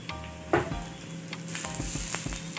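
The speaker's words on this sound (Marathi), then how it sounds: "कांदा भाजण्यासाठी आपल्याला थोडस तेल टाकायचं आहे इथे मी एक टोमॅटो मिडियम आकाराचा कापून घेतला ते पण टाकूया" Onion and a medium tomato frying in a little oil, with soft sizzling and a few sharp clinks and stirring sounds, quiet and close.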